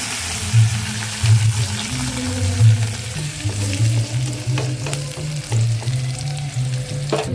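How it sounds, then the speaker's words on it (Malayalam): Mustard seeds, curry leaves and shallots sizzle and crackle in hot oil for a chicken curry, a loud continuous fry with the low rumble of a stove beneath and some stirring, close up and without talk. "കടുക് പൊട്ടി അതിലേക്ക് 2 തള്ള് കറിവേപ്പില, 2 ചെറിയുള്ളി,"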